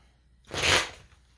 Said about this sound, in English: I'm having a hell of a time shuffling the deck today.